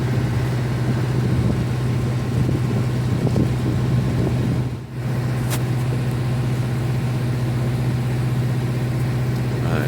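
Boat engine running steadily during a sea trial, a constant low droning hum heard from on board, loud and even throughout with one brief dip midway and no talking.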